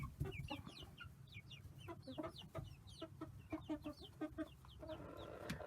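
Young rooster clucking in a chicken pen, a steady run of close, quick clucks and chirpy calls over soft background flock noise, with no talking.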